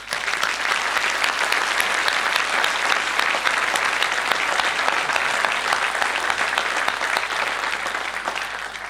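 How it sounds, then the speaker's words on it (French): Steady audience applause fills a town hall during a New Year's wishes ceremony, a dense even clatter of many hands clapping, moderately loud and unbroken throughout. "Je vous demande de les applaudir, s'il vous plaît."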